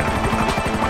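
An aircraft engine in the video game GTA V Online drones loudly with a rapid, rhythmic chopping pulse, heard alone and steady.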